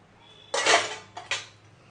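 Steel pots and utensils clatter and scrape as already washed dishes are scrubbed again, two clear bursts of clanking close by with a quiet pause between.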